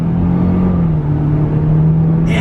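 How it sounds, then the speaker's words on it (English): A 2020 GMC Terrain's 1.5 liter turbocharged engine and transmission accelerate with a steady droning roar whose pitch holds and dips slightly, loud and close from inside the cabin with no talking. "you could hear that transmission and engine roar in this"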